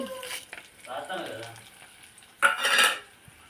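Peppercorns, urad dal, chana dal and dried red chilies fry in oil for a tamarind rice tempering, with faint sizzling, spoon scrapes and clinks against the pan, and a louder burst of sizzle near the end.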